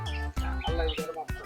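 Birds chirp and call at the Salmiya oasis in Kuwait, a dense, steady mix of tweets close by over the full short stretch with no pause.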